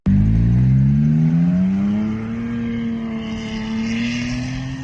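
A 2017 Toyota Tacoma TRD Off-Road with an MBRP turndown exhaust: a deep, throaty engine drone with a low rumbling exhaust note, loud and close, rising slightly in pitch as it revs steadily; no voices.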